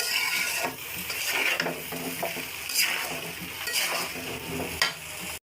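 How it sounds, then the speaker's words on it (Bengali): Khichuri being stirred in a pot right after salt and turmeric go in, a steady run of scraping and clinking strokes with a faint sizzle underneath, close up and alone. "পরিমাণ মতো লবণ হলুদ দিয়ে দিয়েছি। এবার নেড়ে নেব।"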